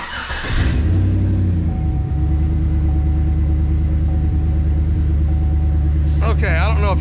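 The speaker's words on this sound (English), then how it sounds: "Can you hear the misfire? You hear it thudding?" A Chevrolet 5.3 V8 with an ignition misfire idles close and loud, a steady low rumble carrying uneven thuds, with a brief voice at the start and again near the end.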